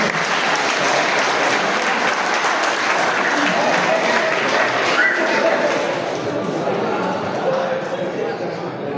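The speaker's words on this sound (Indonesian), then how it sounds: "Kita iringi dengan tepuk tangan itu" A church congregation applauds at a parish pastor handover ceremony, sustained loud clapping that fills the room and fades slightly toward the end.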